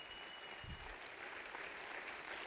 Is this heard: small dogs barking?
no